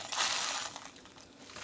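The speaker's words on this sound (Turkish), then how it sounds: "pirinç ilave edeceğim şöyle" Rice for a rice pudding (sütlaç) is tipped from a drinking glass into a pot, giving a quiet, close, gritty hissing rush that is strongest at first and then thins into a fainter patter.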